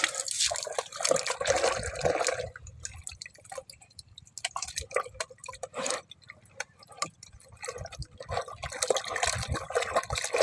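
Water lily roots (shaluk) being washed by hand in water at a village: close splashing and dripping comes in bursts, dense at the start and end with a quieter middle stretch.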